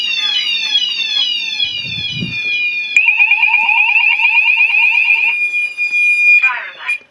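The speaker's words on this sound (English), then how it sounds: "the bass sounder isn't on the loudest. I've turned it down a bit because I felt it was sort of trying to overpower the Firecryers" A Gent Xenex fire alarm system sounds loudly and close, with sweeping electronic sounders, a pulsing warble and a steady piercing tone, alongside a Fire Cryer voice alarm announcement, with the bass sounder turned down.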